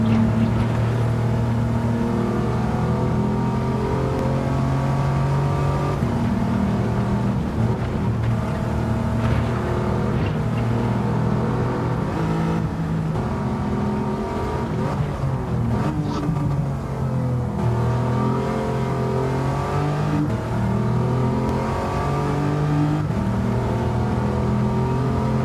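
Audi TT race car engine revving hard on track, a loud continuous motor drone with rising and falling pitch as it accelerates and shifts, heard close and alone.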